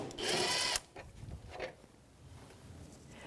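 A 10mm bumper bracket bolt on a 2009-2014 Nissan Maxima is turned with a socket or wrench, giving a brief buzzing ratchet burst followed by faint, quiet clicks.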